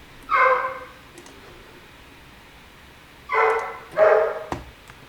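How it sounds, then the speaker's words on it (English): A dog barks three times indoors, one bark, a pause, then two more close together, moderately loud against a quiet room. "Look at my dog."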